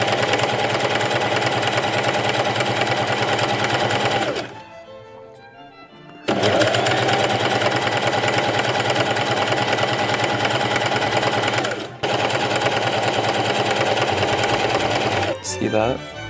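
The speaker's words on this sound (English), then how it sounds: "and then I'm just going to sew" A sewing machine stitches a corset top in loud, close, steady mechanical runs, stopping briefly twice, with a short quiet gap around the middle where a voice speaks.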